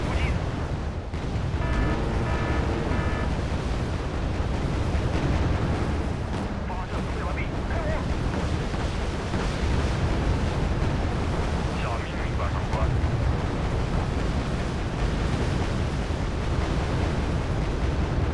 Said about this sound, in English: Should be bombing.